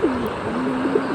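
A pair of German Shield pigeons, a black male and a yellow female, coo softly and close by in a low, rolling rhythm, with a few repeated throaty notes over light background noise.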